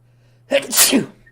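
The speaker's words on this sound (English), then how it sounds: "I'm gonna sneeze" A single sharp sneeze bursts out after a moment of near silence, loud and close, with a steady low hum in the background.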